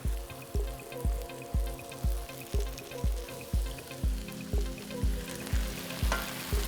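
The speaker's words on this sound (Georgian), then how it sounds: "ბადრიჯანს, სოკოს, ნიორს და ხავს მოვშოშავ 5 წუთის განმავლობაში" Eggplant, mushrooms and garlic sautéing in a hot pan, with a steady sizzle and a regular, repeated scrape or knock of stirring about twice a second, close and continuous throughout.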